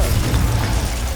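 A Confringo spell explosion from the Hogwarts Legacy video game, a dense, loud blast with a booming low end that fills the whole short moment without letting up.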